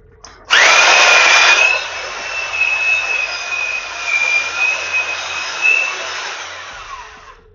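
A power drill with a mixing attachment churns Petrobond oil-bonded foundry sand, starting abruptly with a loud high whine that settles into a steady buzzing drone with slight speed wavers before cutting off.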